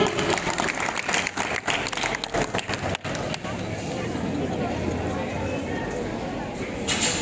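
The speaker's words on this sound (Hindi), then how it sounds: "जोरदार तालियों से स्वागत कीजिए हमारे अद्भुत कवियों का" A school audience at an Independence Day poetry recital gives hearty applause to welcome two young poets, the clapping dense and crackling at first, then settling into a softer, steady patter with some crowd murmur.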